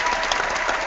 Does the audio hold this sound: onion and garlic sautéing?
no